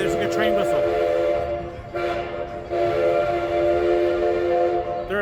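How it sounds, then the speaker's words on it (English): Train horn sounding its crossing signal near a Southern California theme park, steady loud horizontal tones with a brief break, heard over ride rumble and crowd noise. "there's a good train whistle"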